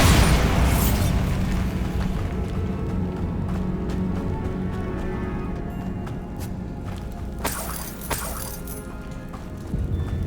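A Bombarda spell explodes in Hogwarts Legacy, a heavy booming blast at the start that rumbles and decays, followed by scattered crackles and a few more sharp bursts later on, with no talking.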